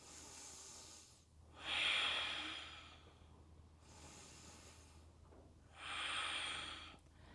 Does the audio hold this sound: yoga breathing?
yes